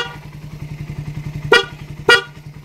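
A loud aftermarket fullwave dual horn on a Raider 150 motorcycle gives two short, sharp blasts about half a second apart over a steady, pulsing engine idle.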